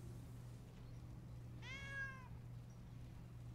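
A cat gives one short, faint meow against a steady low background hum.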